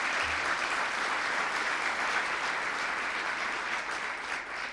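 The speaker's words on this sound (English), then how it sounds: "Let's give them a round of applause." An audience at the Rainier Arts Center in Seattle applauds in a steady, full wash of clapping, sustained across the whole stretch with no voices over it.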